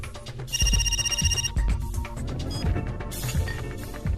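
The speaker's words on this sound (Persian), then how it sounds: "اینها عمو داره زنگ میزنه." A telephone rings in a tense dramatic film scene, its bright electronic ringtone repeating in bursts over a loud background music score.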